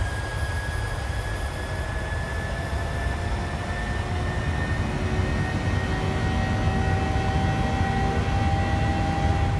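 Aircraft engines drone steadily in Microsoft Flight Simulator as a plane climbs away on a charter flight. The sound is a loud, continuous whine layered over a rumble, with tones that slowly rise and no talking.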